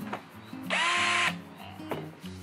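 A Black and Decker 18V cordless hammer drill bores into a chunk of broken concrete, a loud, harsh half-second burst of whining, rattling drilling between quieter moments of nearby talk.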